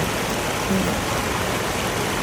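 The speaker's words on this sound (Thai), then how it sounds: "อยากให้ทุกคนได้ฟังเสียงน้ำตก" Dong Phaya Yen waterfall in Thailand roars in a steady, dense wash of rushing water, constant and fairly loud throughout, with no voices.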